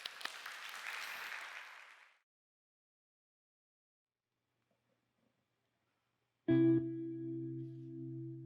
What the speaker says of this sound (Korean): 박수로 청해 주시죠